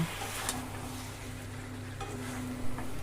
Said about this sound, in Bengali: গ্যাসটা হাই ফ্লেমে করে মাংসটা কষিয়ে নেব